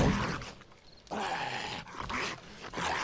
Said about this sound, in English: Can you hear the zombies?